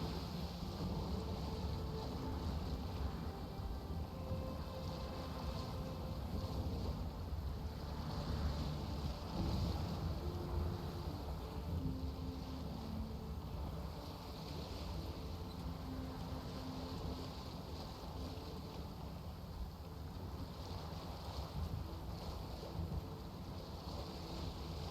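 Boat sailing across water in The Witcher 3, a quiet steady wash of waves and wind with faint background music, low and unbroken throughout.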